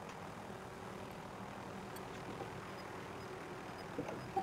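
A helicopter in Call of Duty Modern Warfare hovers somewhere near a gas station, a steady low rotor and engine drone that stays constant, moderately distant, with no speech.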